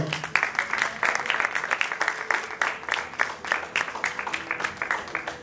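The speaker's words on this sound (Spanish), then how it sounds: "Dale un fuerte aplauso al Señor." A church congregation claps during a service: a quick, fairly rhythmic run of hand claps heard at moderate distance and modest volume, continuing steadily throughout.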